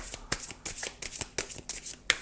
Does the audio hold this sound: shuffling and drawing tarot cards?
yes